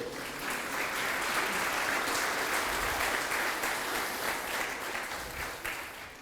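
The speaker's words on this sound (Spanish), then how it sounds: "Dale un fuerte aplauso al que vive" A church congregation at a service breaks into strong applause, a loud, steady wash of many hands clapping that swells and holds, then eases slightly toward the end.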